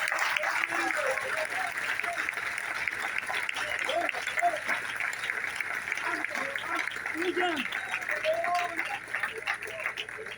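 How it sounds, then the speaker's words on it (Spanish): Sustained applause from a church congregation, a steady wash of clapping lasting the whole stretch with faint voices mixed in. "Den un fuerte aplauso al Señor."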